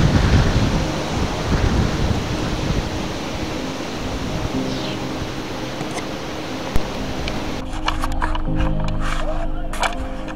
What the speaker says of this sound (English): Vermillion River, she is flowing today.